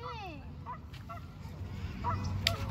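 A goose or duck honking outdoors near fishing line by the water, a rising nasal call at the start followed by scattered shorter honks, with people talking nearby.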